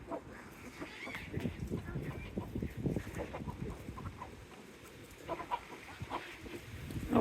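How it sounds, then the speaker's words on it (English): Chickens cluck and murmur softly nearby at a garden center in an uneven stream of low calls, with faint background noise throughout. "Such pretty chickens."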